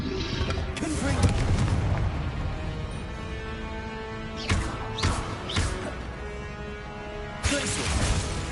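Blast spells explode in the Hogwarts Legacy video game amid a busy combat mix: sustained booming noise with several sharp bursts around the middle and another near the end, while a voice calls out spells.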